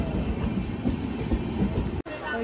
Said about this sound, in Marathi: आपली रत्नागिरीला जाण्याची ट्रेन आली।